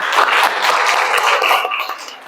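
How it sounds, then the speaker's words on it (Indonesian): Audience in a school counseling classroom session claps briefly after being prompted, a bright dense patter of hands that swells then tapers off over a couple of seconds. "tepuk tangan."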